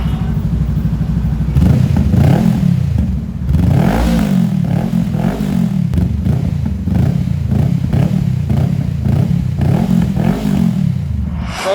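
A Honda Rebel 500 motorcycle engine revs repeatedly through a short Villain Renegade slip-on exhaust, loud and close, rising and falling in steady throttle blips with a rough clattering note, without backfiring.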